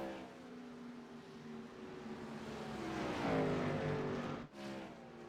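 Race car engine in a sim racing cup series at Pocono, droning steadily with harmonic tones that rise and fall as it shifts and swells louder mid-clip before a brief dip, with no talk.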